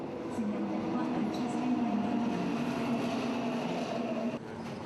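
Subway train on the move, a steady low rumble and rail hum filling the whole stretch at close range, with faint background sounds and no clear talk.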